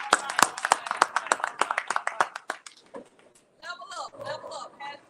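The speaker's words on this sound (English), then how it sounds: "Clap it up." An audience claps at an Alabama high school media day: a quick series of sharp, loud individual claps, then talk takes over near the end.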